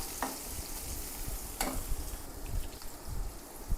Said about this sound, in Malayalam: ഒരൽപ്പം കടുക് പൊട്ടിച്ചു ഇതിലേക്ക് ഉള്ളി വെളുത്തുള്ളി എന്നിവ ഇട്ട് കൊടുത്ത് പിന്നെ വാടണം